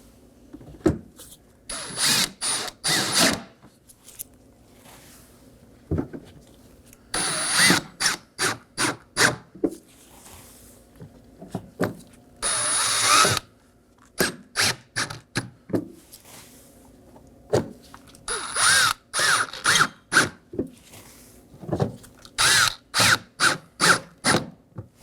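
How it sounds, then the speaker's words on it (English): A power driver snugs T15 Torx screws into a Chevrolet Equinox bumper, firing off short whirring bursts in uneven groups, close and fairly clean with no talk. "I'll just be snugging these down."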